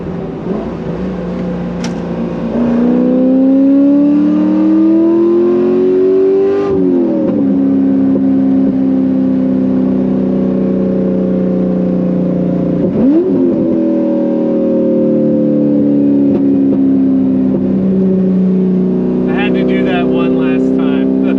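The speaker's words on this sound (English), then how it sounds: "That was the last drive in the Corvette." A Corvette C5 Z06 engine drones steadily while driving, its pitch climbing and dropping through gear changes, loud and close from inside the car.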